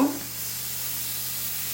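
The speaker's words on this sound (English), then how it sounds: "it's got a nice sizzle to it" A soft, steady sizzling hiss of American Wagyu beef searing on a hot salt stone, quiet and continuous after a brief opening clunk.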